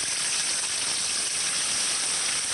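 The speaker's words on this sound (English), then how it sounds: "we got the water coming up over the front seat" Water pouring into a sinking car and rising over the front seat, a steady, dense, hissing rush of flowing water that stays loud and unbroken throughout.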